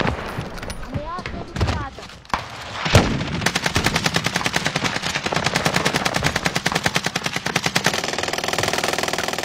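Rapid automatic gunfire in Call of Duty Warzone rattles in a long sustained burst after a few scattered single shots and a louder blast, close and loud, with some talk early on.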